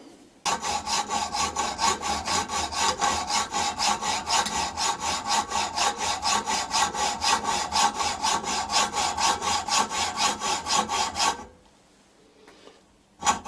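A hand saw with a hardened steel blade cuts through metal in even back-and-forth strokes, rasping rhythmically for about eleven seconds before it stops and leaves near-silence.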